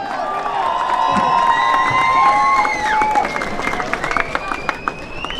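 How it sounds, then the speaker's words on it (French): Audience at a mask-contest award ceremony applauding and cheering the organizing committee, a loud burst of clapping with shouts and whistles that fades toward the end, with voices mixed in. "Je vous demanderai de les applaudir bien fort car ils le méritent."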